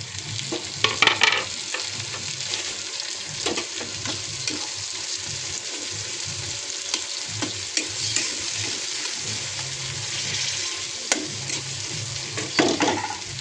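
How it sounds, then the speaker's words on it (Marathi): Onion and tomato sizzle steadily in a pan while being stirred, a constant frying hiss with intermittent scrapes and clinks of the spoon, heard close with no talking. "कांदा चांगला फ्राय करून घ्यायचा अशा प्रकारे आपण कांदा थोडा लाल करून"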